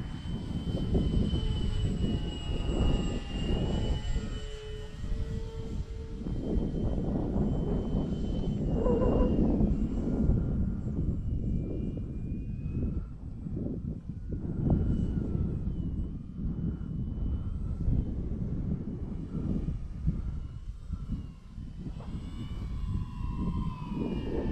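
Avios King Twin radio-controlled twin-engine model airplane making a slow pass in wind, its steady engine drone loud and continuous, rising and falling slightly as it flies by.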